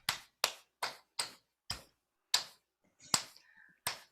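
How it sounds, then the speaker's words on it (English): A few scattered, hesitant claps from a theater audience, sharp separate slaps spaced unevenly with short gaps between them, close and fairly quiet. "Confused applause."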